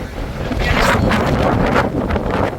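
Steady sea breeze rushes over the microphone in a continuous, loud buffeting roar by the ocean beside a hotel pool, with no voices present.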